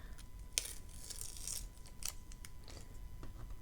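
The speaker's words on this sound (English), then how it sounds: "I'm going to take off the washi tape." Washi tape peeled slowly off watercolor paper at a sharp angle, a quiet crackling, sticky rasp in several short bursts with brief pauses, close and faint with no talking.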